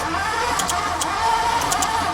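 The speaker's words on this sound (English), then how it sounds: "hopefully it'll get into the carburetor and this car will start" A Ford Thunderbird engine sitting unused for 15 years cranks over with a steady, continuous whirring churn and faint rhythmic clicks, sounding close and loud with no voices.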